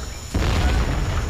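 A grenade explosion in a tactical multiplayer shooter match, a single loud low boom that hits suddenly and then rumbles on steadily, with no talk over it.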